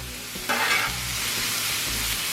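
Vegetables for jambalaya frying on a Blackstone griddle: a loud, continuous close sizzle that swells suddenly about halfway through the first second and then holds steady, with no voices.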